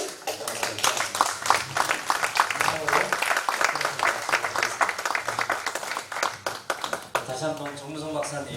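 An audience at a church forum panel discussion claps and applauds, a dense patter of many hands that continues for several seconds, with a voice speaking near the end.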